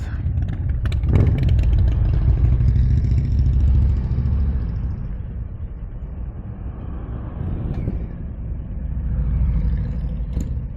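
A group of Harley-Davidson motorcycles rides past on a mountain road along the Great Dividing Range, with deep engine rumble and a loud roar that swells, fades and returns, heard over ongoing wind and road noise.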